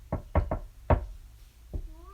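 Knocking on a door indoors, three quick raps, a pause, then a louder fourth, close and distinct, followed by a faint tonal whine.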